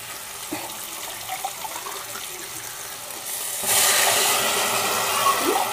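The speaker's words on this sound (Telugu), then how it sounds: "దానికి రెండు గ్లాసులు వాటర్ పోసుకోవాలా" Two glasses of water poured onto rice in a pot, starting as a soft trickle and swelling into a louder steady rush of pouring water, with no talking.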